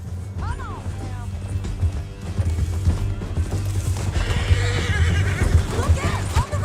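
A horse whinnies loudly in the Red Dead Redemption 2 video game during a canyon ride, its rising-and-falling neigh near the start, over a thick bed of game music, hoofbeats and voices.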